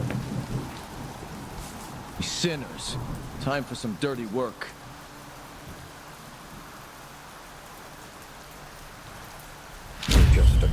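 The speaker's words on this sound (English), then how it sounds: "It's always raining down here." Steady rain pours in the video game Sancticide with low rumbling thunder, a continuous hiss under someone speaking briefly, then a loud thunder crack bursts near the end.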